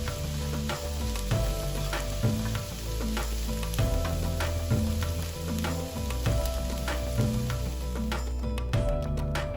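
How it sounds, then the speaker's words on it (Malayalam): Onions sautéing in a pan for onion theeyal, frying until light brown: a steady loud sizzle with stirring scrapes and clinks throughout, no voices. "ഉള്ളിയെല്ലാം നന്നായിട്ട് വാടി ഒരു ലൈറ്റ് ബ്രൗൺ കളറാകുന്ന വരെ നമ്മളിതുപോലെ അതൊന്ന് മൂപ്പിച്ചെടുക്കാം."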